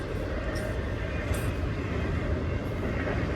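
Low, steady rumble of a train rolling by at a distance, a continuous heavy drone with faint squeaks on top.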